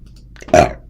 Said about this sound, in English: I did not mean to burp that badly.